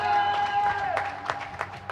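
A crowd at a tennis match claps in a short burst of scattered applause, fairly close, while a voice carries over the clapping.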